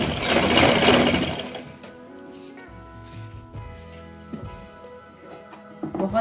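A sewing machine stitches elastic onto trousers in a loud rapid burst that stops after about two seconds, followed by quieter handling clicks and faint mechanical taps.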